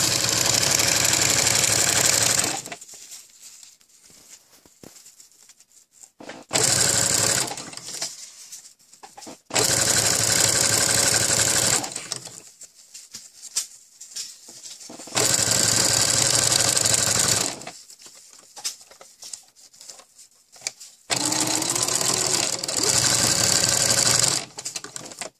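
A sewing machine stitches a ruffle onto a cloth diaper in loud, steady bursts of rapid whirring, with four or five runs separated by quiet pauses.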